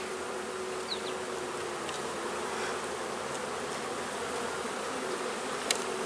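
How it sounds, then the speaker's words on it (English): Honeybees buzz in a dense, continuous hum, a swarm close by at a hive, with a few individual bees and drones droning past. "There's so many bees that It's hard to see."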